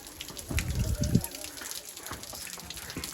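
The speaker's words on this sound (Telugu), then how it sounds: "ఇక్కడ కొండ నుంచి నీళ్ళు అవి కూడా పడుతున్నాయి చూడండి" Rainwater pours down a rocky hillside at the Ahobilam temple site, a steady rushing wash of water. Low voices murmur beneath it.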